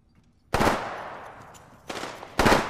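Gunfire in Apex Legends: a sharp close burst of automatic fire that trails off, then two more short bursts in quick succession.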